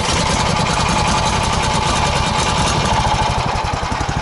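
A motor-driven auger bores through lake ice on a snowy winter pike-fishing trip, a steady loud engine drone with rapid grinding pulses running throughout, close by and alone.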